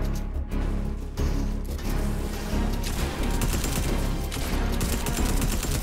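Dense, rapid gunfire crackles in a shooter video game, a near-continuous volley of loud shots with overlapping bursts filling the whole stretch.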